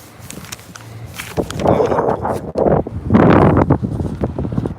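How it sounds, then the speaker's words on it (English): Outdoor wind buffeting a handheld microphone outside a police department building in Ada, Oklahoma, with rough, gusty rumbling bursts that swell louder toward the end alongside faint rustling and footsteps. "Sorry, it's a little windy here."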